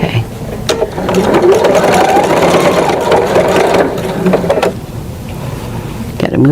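A sewing machine back stitching while a zipper is sewn in, a loud rapid mechanical whirring that runs in a sustained burst with short stops and restarts at either end.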